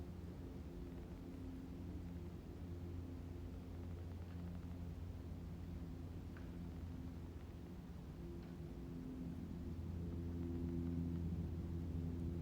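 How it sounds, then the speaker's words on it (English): A commercial airliner passes overhead as a steady, low rumbling drone that holds for the whole stretch and swells slightly toward the end, with no talking. "Here comes a commercial plane."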